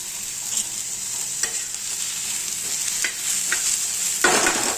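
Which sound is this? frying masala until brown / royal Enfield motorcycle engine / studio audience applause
frying masala until brown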